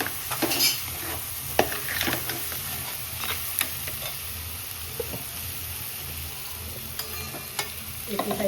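Crabs fry in a pan with masala, giving a constant close sizzle broken by scraping stirs and light clinks of a spoon against the pan.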